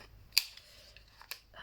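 Scissors snip the corners of a small paper tag, two sharp isolated cuts about a second apart, close and fairly quiet against a hushed room.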